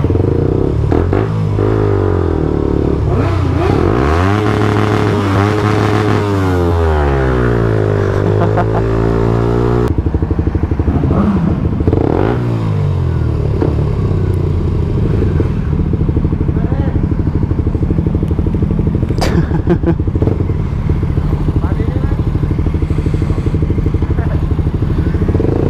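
Motorcycle ridden through traffic, engine revving up and down through gear changes, close and loud, with wind rush and passing vehicles throughout.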